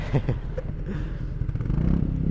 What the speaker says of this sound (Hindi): अरे वाह, अच्छा एग्जॉस्ट है बुलेट का